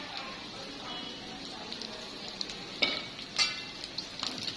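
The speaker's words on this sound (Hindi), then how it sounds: "और इसको भी अच्छे से फ्राई कर लेंगे चिकन के साथ" Chicken frying in oil with garlic ginger paste gives a low, steady sizzle, broken by a couple of sharper crackles and stirring clinks near the pan.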